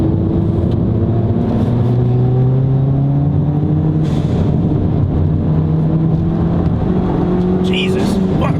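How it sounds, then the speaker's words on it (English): A Ford Fiesta ST fitted with a Wavetrac limited-slip differential accelerates hard along a tight canyon road, its engine drone rising and falling steadily from inside the cabin while a person talks over it. "The car just pulls and has traction."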